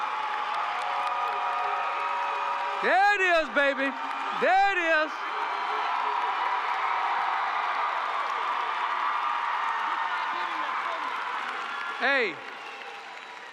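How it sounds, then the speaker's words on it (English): A graduation crowd at a high school commencement applauds and cheers steadily, with shrill whoops rising above the clapping and a voice calling out near the mic. "Let's give him a big round of applause"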